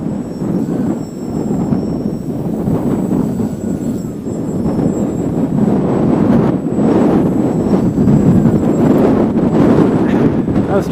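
A Bayer Model 32-inch Crack Yak 55 RC plane flies in strong wind, its electric motor whining and swelling continuously as the aircraft moves back and forth, with gusty wind noise on the microphone.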